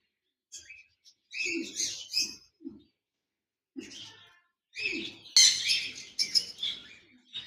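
Caged pair of lutino opaline lovebirds gives short bursts of shrill chirps and squawks separated by brief pauses, close by and fairly loud.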